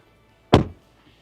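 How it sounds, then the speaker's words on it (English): A single solid thunk of a 2025 Isuzu mu-X door shutting, close and sharp, followed by quiet. "Close the door."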